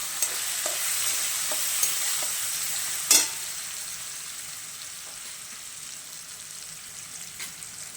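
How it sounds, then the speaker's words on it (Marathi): Chana dal (split chickpeas) with urad dal frying in a pan: a steady, soft sizzle with faint scraping stir clicks and one sharper clink, close and without talk. "हरभरा डाळ, थोडं परतून घ्यायचं."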